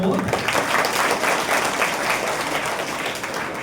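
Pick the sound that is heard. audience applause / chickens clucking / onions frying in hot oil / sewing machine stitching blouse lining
audience applause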